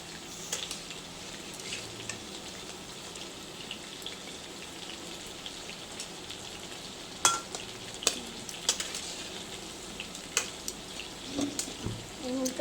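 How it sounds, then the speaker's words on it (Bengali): Chow kebabs sizzle softly in hot oil with a steady crackle, joined by occasional clinks and scrapes of a utensil against the pan. "একটুখানি ভালো করে ভাজা হোক"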